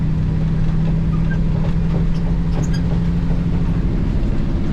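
A Chevrolet Squarebody Suburban with a 350 engine cruising, heard from inside as a loud, steady low engine drone and road rumble with no speech.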